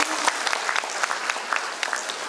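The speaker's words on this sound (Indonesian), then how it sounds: "Tepuk tangan buat ibu-ibu semua." An audience applauds at a launch event for a cooperative's mobile app, a lively, fairly close patter of many hands with scattered sharper claps, continuing steadily without speech.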